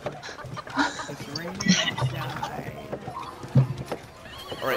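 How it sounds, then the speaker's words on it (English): Horses clip-clop with hooves and let out neighs and whinnies close by, amid chickens clucking in the background and people talking over the animals. "Oh, it's horses."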